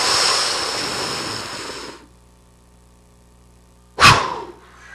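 Powerful yoga breath drawn in through a rounded mouth, a loud broadband rushing inhale for two seconds, then quiet, then a short sharp burst of air.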